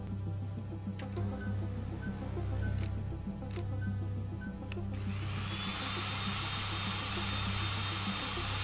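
A drill press in the video game Stories Untold switches on, its steady motor whine starting abruptly and holding loud and even, after a stretch of low hum and faint clicks.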